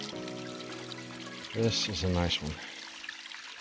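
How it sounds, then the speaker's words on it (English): Water pouring and trickling into a bottle at a trail water source on the Appalachian Trail in western Maine, a short burst of gurgling flow while someone talks over a steady hum. "Fill up some water."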